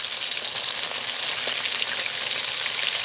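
Whiting fish fries in hot peanut oil, a dense steady sizzle and crackle with soft hissing pops as the pieces are turned over, continuous and close with no talk.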